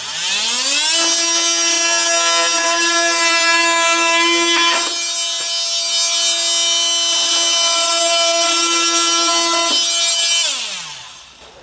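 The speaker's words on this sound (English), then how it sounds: "now I'm just going to take that off with my multi-tool in situ" Oscillating multi-tool cutting through a wooden wedge in place on a winding staircase being fitted, a loud steady high-pitched buzz running about ten seconds with a brief dip midway, then winding down.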